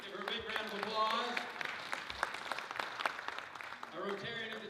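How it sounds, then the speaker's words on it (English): Applause from the audience at a Rotary club meeting, a spread of scattered clapping throughout, moderately near, with voices talking over and around it. "Give her a big round of applause."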